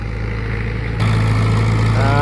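A Chinese LX-704 farm tractor engine idling, a steady low chugging drone with a strong humming tone that grows slightly louder and fuller partway through.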